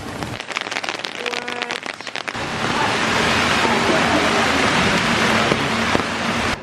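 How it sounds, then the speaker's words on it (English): Hail begins pelting down on a street in Israel, a loud dense rattling roar that swells suddenly after a couple of seconds and then holds steady, close and continuous. "it just started hailing."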